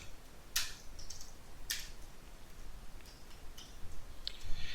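Soft computer keyboard typing nearby, a few sharper isolated clacks among quieter scattered key taps, faint and unhurried.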